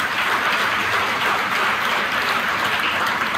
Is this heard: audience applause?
yes